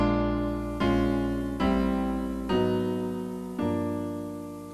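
Sustained musical chords change in five even steps, each re-struck as the harmony slides down by chromatic half steps, played cleanly with no talk.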